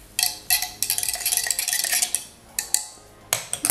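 A utensil scrapes and clinks against a metal pot while food is stirred and added slowly, a busy run of close, bright metallic scraping with a few sharper knocks, no talking.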